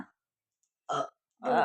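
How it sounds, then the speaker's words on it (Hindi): A child burps twice after eating, two short, throaty bursts close to the microphone separated by a brief silence, in a quiet home. "डकार आ गई, ज्यादा खा लिया क्या?"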